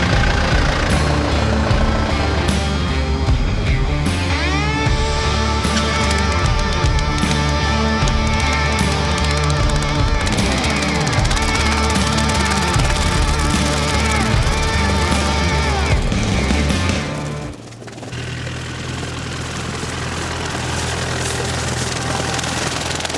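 A tractor engine runs loud and steady close by during crop mowing, with a dense droning hum and a sudden drop in pitch and level near the end as the load or throttle changes.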